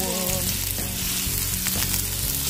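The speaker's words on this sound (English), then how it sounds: "We add a little bit of olive oil. And guys, we add the ginger." Ginger dropped into hot olive oil sizzles loudly and steadily up close, a dense continuous crackle lasting the whole moment, with no one speaking.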